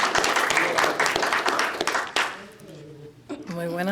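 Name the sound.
audience applauding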